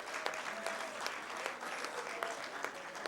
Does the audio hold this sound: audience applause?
yes